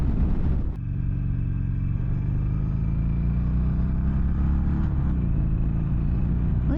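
A 2022 Harley-Davidson Iron 883 cruising on the interstate: a steady, loud, low engine rumble with a brief dip near the start, then constant road and wind roar that continues throughout.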